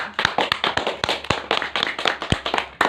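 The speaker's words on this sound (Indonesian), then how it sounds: "beri tepuk tangan untuk Aura dan Andika." Children in a grade 5 classroom clap together, a dense, uneven patter of many hands close by that carries on steadily for about three seconds.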